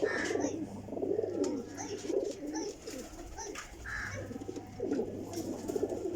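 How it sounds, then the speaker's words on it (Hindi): Golden pigeons coo steadily in a loft, soft repeated throaty calls overlapping at close range with faint chirps and a low background hum throughout. "कबूतर ने इंशाल्लाह तो बहुत ही शानदार कबूतर ने"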